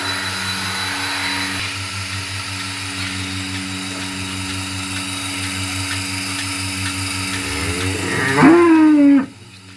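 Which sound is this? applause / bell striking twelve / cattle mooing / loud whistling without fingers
cattle mooing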